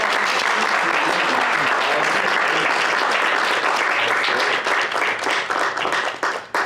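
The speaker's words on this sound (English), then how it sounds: "Applause." Sustained audience applause fills a mariachi vocal interpretation class, dense steady clapping throughout that thins and tapers slightly near the end.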